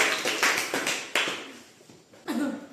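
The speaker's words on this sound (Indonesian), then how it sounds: "Tepuk tangan dulu untuk kelompok algoritma." A school class claps for a student group about to present, with scattered bursts of hand claps that swell and fade in a classroom, close and moderately loud, with no voices.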